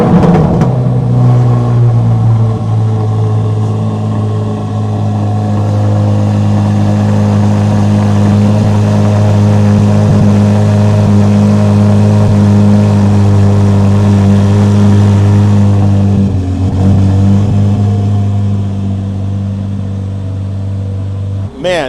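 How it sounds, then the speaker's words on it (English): A Chevrolet Corvette C8 Z06 engine fires up from cold and settles into a loud, steady, deep idle that holds close and strong with little change throughout, with a brief blip near the end. "I love the C8 Z06 on cold start."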